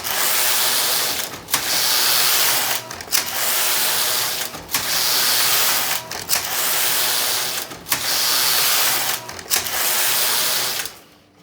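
A Passap E6000 knitting machine carriage runs back and forth seven times. Each loud, steady mechanical whirring rasp is split from the next by a short pause, with no voices.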